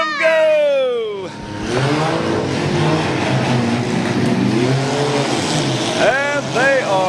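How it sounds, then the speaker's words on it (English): Mini cars revving and pulling away together at the start of a county fair demolition derby, engines loud and close with rising roars and rough rumbling throughout, while an announcer talks over them and a crowd murmurs. "Mini cars rolling down through there"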